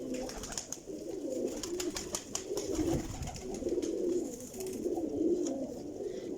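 Pigeons cooing repeatedly in a low, rolling rhythm, fairly close but quiet, with scattered clicks and rustles of birds moving around them.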